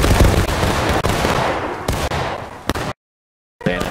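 A rifle volley fired on command in the Civil War video game War of Rights, a dense crackle of many overlapping shots that rolls on for several seconds, followed by a brief silence and a new burst.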